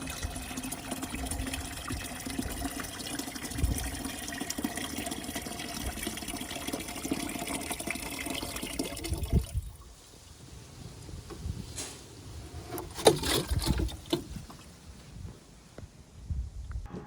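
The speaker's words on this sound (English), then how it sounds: "The new tap is fitted, working perfectly." Water runs from a newly fitted tap on an allotment water tank, a steady rushing flow for about ten seconds that then drops away, leaving faint trickles and a few splashy bursts.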